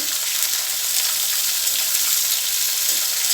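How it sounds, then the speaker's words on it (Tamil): Bitter gourd sautés in hot oil with a loud, steady, close crackling sizzle throughout and no voices. "இதை கொஞ்சம் நேரம் நம்ம நல்லா வதக்கிக்கிடுவோம் எண்ணெயிலே"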